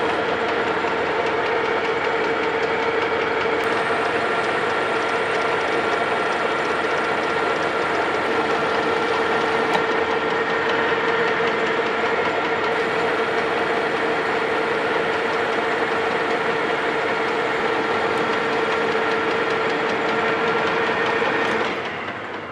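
A metal lathe turns a hydraulic pump shaft down to size, giving a steady mechanical hum with a clear tonal whine and faint rattling that continues unchanged before trailing off at the end.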